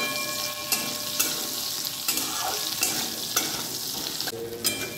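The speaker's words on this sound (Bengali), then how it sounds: "করলাগুলো দেখো আমার ভাজা হয়ে গেছে লাল লাল করে" Bitter gourd (karela) pieces fry in a pan with a little salt and turmeric for a Bengali shukto, a continuous close sizzle broken by repeated sharp scrapes and clinks of stirring, with no voices.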